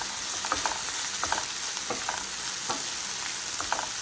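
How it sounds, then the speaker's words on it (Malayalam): Small-cut cauliflower fries in a pan while a spoon stirs it again and again; a steady close sizzle runs underneath, broken by short, regular scraping strokes, with no one talking. "ഇങ്ങനെ തന്നെ ഇളക്കി ഇളക്കി ഇട്ട് കൊടുക്കാം"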